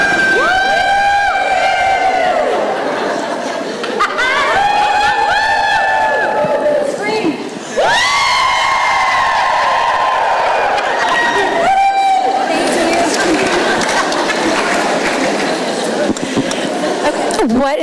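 Large crowd at a book event cheering, whooping and shouting together in loud sustained bursts, with high excited voices rising and falling and brief dips between waves of noise.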